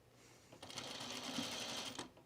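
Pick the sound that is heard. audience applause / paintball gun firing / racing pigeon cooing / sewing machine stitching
sewing machine stitching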